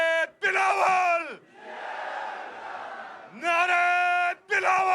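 Party workers at a Pakistan Peoples Party rally in Gilgit Astore answer political slogans, a large crowd roaring back in loud, sustained chanted cheers, with a stretch of broader crowd noise between the bursts of chanting.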